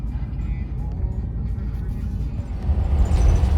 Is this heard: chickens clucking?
no